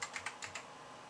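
A handful of quick, light keystrokes on a computer keyboard, close and soft, in a quiet room without speech.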